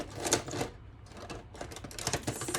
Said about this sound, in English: I am going to trim this.